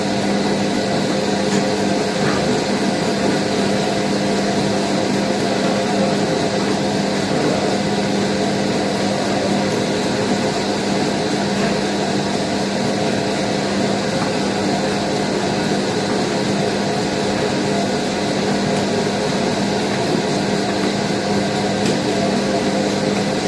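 Steady mechanical hum of a dough mixer running continuously, a constant whirring drone with no pauses and no voices.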